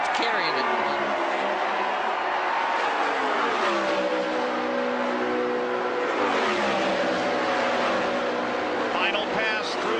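An Indy race car engine screams through its final lap at Indianapolis, a loud, sustained high-pitched whine rising and falling with gear changes, heard beneath continuous race commentary.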